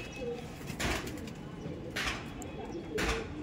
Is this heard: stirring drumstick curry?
no